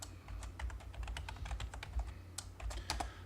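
Rapid clicking keystrokes on a computer keyboard while entering the MI mirror command in AutoCAD, a close, irregular burst of taps with a few heavier presses.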